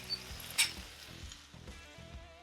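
Carne picada steak sizzles on a Blackstone griddle, a soft steady crackle with a few brief clinks and scrapes of utensils stirring the meat, close by and fairly quiet.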